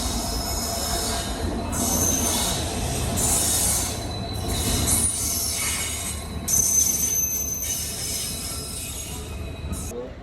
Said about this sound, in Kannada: ಇನ್ನೊಂದು ಟ್ರೈನ್ ಬರ್ತಿದೆ